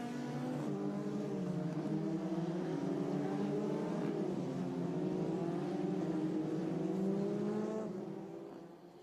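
Formula 1 cars drive at the Hockenheim circuit, engines droning in a steady, high whine that shifts pitch as the cars move through, heard from a distance before fading out at the end.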